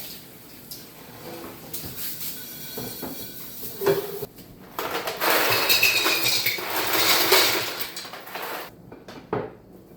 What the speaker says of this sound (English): now I'm going to clean this crock that they were in